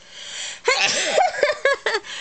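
A single loud sneeze bursts out close by, followed by a few short breathy sniffs and gasps.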